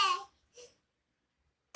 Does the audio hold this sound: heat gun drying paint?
no